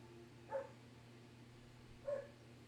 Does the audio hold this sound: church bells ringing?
no